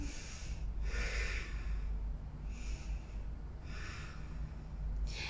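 Slow, audible yoga breaths during a vinyasa flow, about four airy inhales and exhales spaced evenly over a few seconds, close and fairly soft, with no talking.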